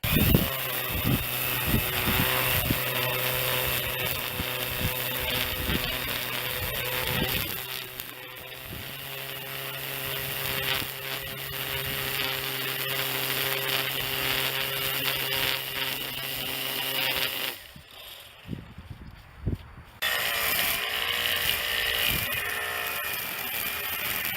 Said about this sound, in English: You ready to do some trimming?